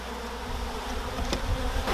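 Honey bees from a newly arrived package hum and buzz in a continuous dense drone close by, steady and fairly loud, with a couple of brief sharper knocks against the box.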